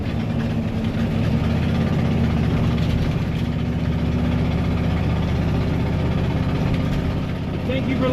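A 1996 Coachmen RV with a 460 gas engine runs steadily nearby, a loud continuous low engine rumble with exhaust drone throughout, holding an even idle-like level from start to finish.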